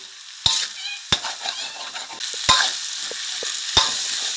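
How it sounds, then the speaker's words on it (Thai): Egg fried rice stir-fried in a pan with sugar, pepper and seasoning powders, sizzling steadily with repeated sharp scrapes and knocks of the spatula against the pan, close and fairly loud, no talking. "ผัดให้เม็ดข้าวกระเด้งเลยค่ะ"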